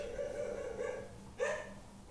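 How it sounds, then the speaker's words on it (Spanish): A pet dog barks at home, a few faint yapping barks with one sharper bark near the end, heard over quiet Resident Evil 2 Remake game sound. "Mi perro que no se calla"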